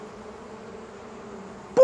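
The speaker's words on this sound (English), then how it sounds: "they buzzed around the fireman hoping he'd mend their hive" Steady, soft insect-like buzzing from bees swarming around a hive, droning evenly for nearly two seconds before a sudden louder burst at the very end.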